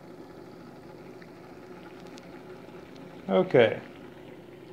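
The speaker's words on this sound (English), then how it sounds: "that's certainly a rolling rapid boil" Water at a rolling, rapid boil on a Supercat alcohol stove, a steady close bubbling hiss throughout, with a brief spoken word near the end.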